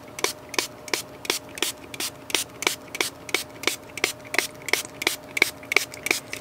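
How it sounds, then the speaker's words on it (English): Short sharp bursts of a spray bottle misting a handmade Japanese wabi sabi style journal page, about two dozen quick even spritzes in a steady rhythm, close and alone with no talk. "And now again, I'm going to spritz this."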